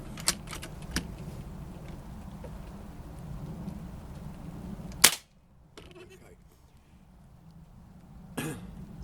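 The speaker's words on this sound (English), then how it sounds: "Yeah, it's raining." Steady rain patters outdoors on and around a parked car. A sharp rifle crack cuts through midway, followed by quieter rainfall and another faint crack near the end, with no clear talking.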